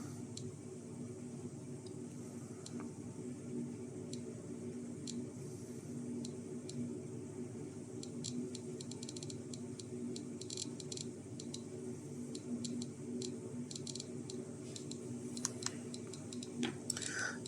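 A Geiger counter tube driven at about 2147 volts, its detector clicking in rapid irregular bursts of pulses, sharp ticks scattered densely over a low steady hum, with no talk.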